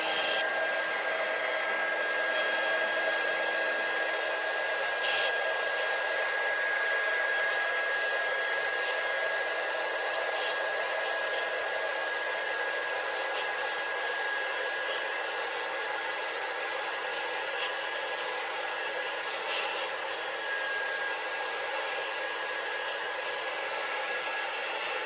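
A hair dryer blows steadily on wet chalk paste on a craft stencil, a constant airy whir with a high whine, running unbroken and close for the whole stretch with no talking.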